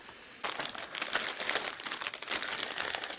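Loud, close crinkling of a plastic bag runs continuously after a brief quiet start as a Logitech wireless desktop keyboard is pulled out of its wrapping during unboxing.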